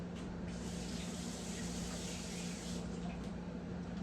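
A canning jar lid is rinsed under running water, making a steady, even hiss of flowing water close by for the whole stretch with no speech.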